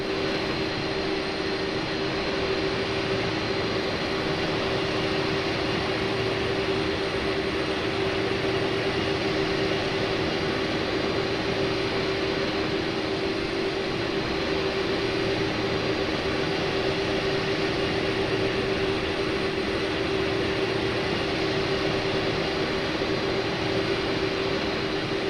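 Airliner engines drone steadily on an ILS approach in Flight Simulator 2024, a loud, constant cockpit hum with a sustained tone, uninterrupted and without speech for the whole stretch.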